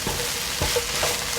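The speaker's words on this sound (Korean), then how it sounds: "그리고 살살 볶아줘서 고추기름이 나오게" Chili peppers stir-fry gently in oil in a pan at low heat, giving a steady close sizzle with a few soft scraping stirs of a utensil.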